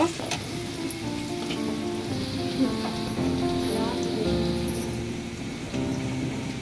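Onions sizzle loudly and continuously in frying oil, a dense close crackle with faint tonal sounds in the background.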